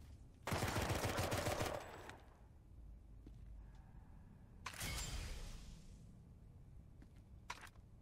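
Two loud bursts of gunfire in the video game Drawn to Death, each lasting over a second, separated by a quiet pause, with a few faint clicks afterward.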